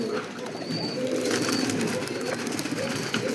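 Racer pigeons kept at home coo in low, rolling throaty calls, repeated soft phrases heard nearby, with faint chirps and a brief flutter of wings in the background.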